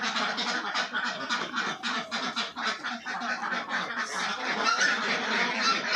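A flock of about 250 ducks on a duck farm keeps up a continuous, dense chorus of quacking and honking calls at moderate distance, with no one talking over it.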